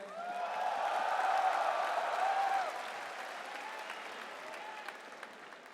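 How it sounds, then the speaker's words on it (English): An esports crowd at ESL One Manila 2016, a Dota 2 tournament, breaks into loud applause with some cheering, which swells, then gradually fades to scattered clapping. "Give a round of applause to compLexity Swindles."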